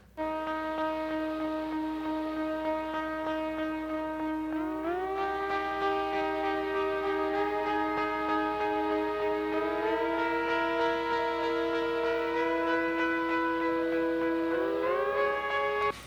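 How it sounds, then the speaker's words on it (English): Sustained synthesizer tones slide smoothly from one pitch to the next, gliding upward in a few slow steps, sounding eerie and steady at moderate volume. "something called portamento that makes notes glide together"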